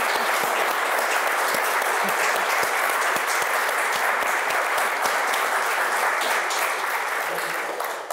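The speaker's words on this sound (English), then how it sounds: "give a big round of applause to Geraldine for a great talk." Applause from an audience at the close of a gallery talk and conversation event, a loud, continuous clapping crowd sustained for about eight seconds before tapering off at the very end.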